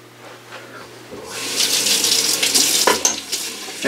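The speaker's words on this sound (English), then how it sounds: "And a final rinse." Running water rinsing the face after a shave with a Muhle Rocca safety razor; a steady, close splashing gush starts partway through and continues to the end.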